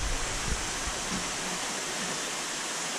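Overflowing water from a large water-supply system running as a stream, a steady, even rushing wash with no pauses, fairly close and moderately quiet.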